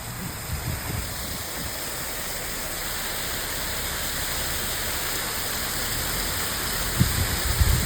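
Waterfall near Port Renfrew pouring steadily, a constant broadband rush heard close and fairly loud with no break across the clip.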